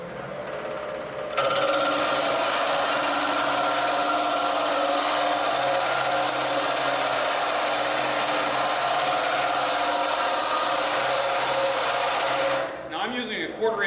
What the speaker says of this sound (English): Now I'm using a 1/4 inch tool steel metal lathe tool bit that's been rounded out to a scraper for the cutter.